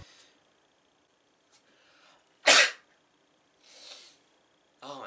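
One sharp, loud sneeze bursts out close to the microphone, framed by quiet breaths and small rustles.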